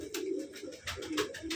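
Punjabi Malwai pigeons coo softly and repeatedly nearby, low rolling calls overlapping in a steady rhythm with no talking.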